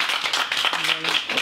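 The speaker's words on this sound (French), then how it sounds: "J'aimerais qu'on les applaudisse avant que je dise leur nom, s'il vous plaît." Brief burst of audience clapping at a Paris bar opening, choppy and close, with a voice or two briefly audible underneath.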